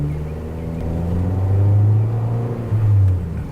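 Fiat 500 Abarth with a 1.4-litre engine, driven in sport mode with traction control off, gives a steady loud low drone that swells twice as the revs climb, heard up close from inside the car without talk.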